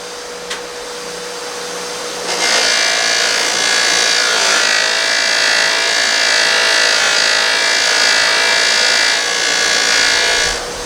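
A buffing wheel spinning up with a brief click before it starts, then a loud, steady broadband whir as a part is held against the dedicated buffer pad, continuing alone without speech.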